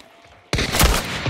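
Sudden burst of gunfire in Hunt: Showdown, loud rapid shots erupting after a brief quiet moment and ringing on to the end.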